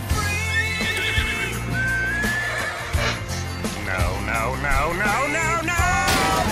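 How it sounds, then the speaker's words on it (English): A horse neighs loudly in a long, wavering whinny over upbeat music and busy background noise, followed by a further shaky whinny near the end. "Look at my horse. My horse is amazing."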